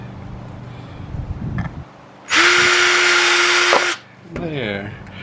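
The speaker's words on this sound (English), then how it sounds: "So I just drilled them at the where the bottom slopes up towards the sides, just a couple holes." An electric drill whines at a steady pitch for about a second and a half as it bores holes in an umbrella base, loud and close, with voices talking before and after.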